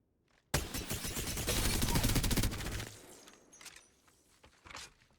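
Rapid automatic fire from the Devotion energy light machine gun in Apex Legends, with a burst of shots that speeds up and then stops after about two seconds, followed by faint mechanical clicks and movement.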